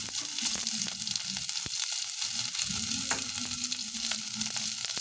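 Chopped onion sizzling and frying in a pan while tinola is being cooked, a steady close crackle with occasional stirring scrapes and no talking.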